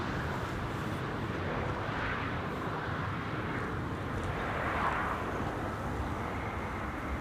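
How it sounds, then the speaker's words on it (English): A KLM Embraer 190 airliner lands at Amsterdam Schiphol, its jet engines giving a broad, steady roar at moderate distance that swells slightly midway and holds throughout. "KLM flight 1662 landed here. Embraer 190 arriving from Bologna"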